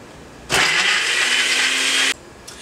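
A kitchen blender whirs loudly for about a second and a half, mincing raw biryani ingredients to a crunchy, peanut-butter-like texture, starting abruptly at full speed and stopping just as sharply, with a faint start of a second burst at the end.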